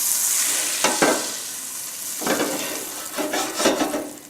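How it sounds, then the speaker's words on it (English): Butter browning in a pan for a broccoli, asparagus and tomato purée sizzles with a steady hiss, broken by a few louder bursts of spatter and stirring near the pan, with no talking. "Anyway, I'm going to saute."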